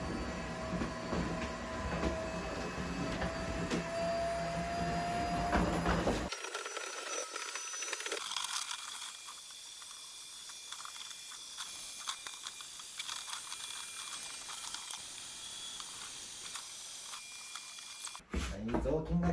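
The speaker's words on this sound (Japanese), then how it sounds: "掃除機かけるよ。" A vacuum cleaner runs continuously while cleaning a room before laying wooden floorboards, a loud steady whir that shifts in tone as it moves, with some talk nearby.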